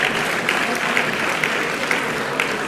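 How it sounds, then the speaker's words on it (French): An audience at a sports awards evening applauds Aquitaine champions: steady, dense clapping from a crowd, continuous and fairly loud throughout, with no talk over it. "Et vous pouvez les applaudir, champions d'Aquitaine."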